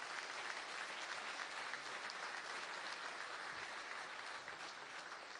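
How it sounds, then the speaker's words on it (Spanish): A crowd applauds steadily at a public address, a dense, even wash of clapping that holds at the same level throughout, with no voices rising above it. "pido a ustedes un fuerte aplauso"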